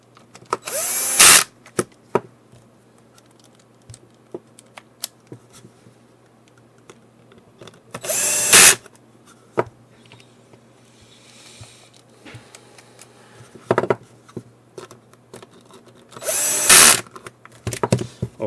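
A power screwdriver drives plastic studs into an HME wireless headset base station main board, giving three short loud whirring bursts spread across a quiet stretch of faint handling clicks.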